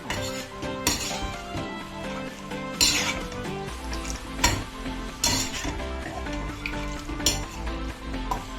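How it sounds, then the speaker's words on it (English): Beetroot pasta is stirred in a pan over a low flame, with a utensil scraping and clinking against the metal in irregular knocks over a soft, steady sizzle, close and fairly loud. "Mix it nicely."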